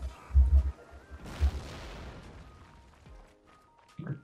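A cannon fires in Napoleonic Wars during a siege battle, with heavy low booms early on followed by a long rumbling tail and another deep thud near the end, among distant battlefield noise.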